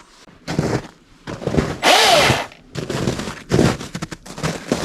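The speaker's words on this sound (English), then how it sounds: "we're gonna go get the saw going and get this trail cut up." A cordless Milwaukee saw cuts through 2 to 3 inch branches along a wooded trail, giving several bursts of buzzing cutting noise separated by short pauses, with one louder, longer burst in the middle.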